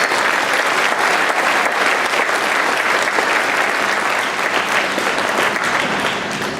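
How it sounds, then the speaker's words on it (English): A sustained round of applause for the cafeteria staff at an elementary school Blue Ribbon ceremony, with many hands clapping at an even, full volume for several seconds. "Round of applause for our cafeteria."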